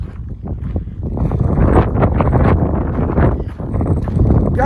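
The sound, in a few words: strong wind outdoors at Red Rock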